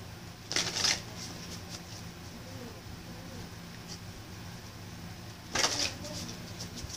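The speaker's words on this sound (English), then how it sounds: "Let me shuffle." Tarot cards are shuffled by hand in two short riffling bursts several seconds apart, close and crisp, over a quiet room background.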